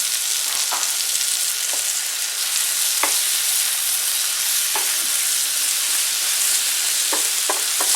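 Masala with chopped tomatoes and green chillies fries in a pan with a steady, close sizzle, broken by several short scraping stir sounds from a spatula.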